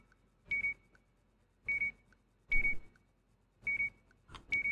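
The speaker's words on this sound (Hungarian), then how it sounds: "Ezt a csipogást valahogy lejjebb kéne venni" Short electronic beeps sound in the Gas Station Simulator video game, five evenly spaced tones with brief noisy bursts around each, clear and alone.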